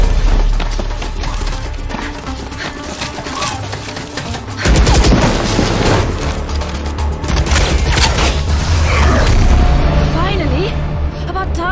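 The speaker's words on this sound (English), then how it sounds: "We're picking up gunfire." Dense bursts of rapid gunfire in the video game Valorant crackle and boom without pause, sharp and loud, with splintering impacts layered over a low rumble.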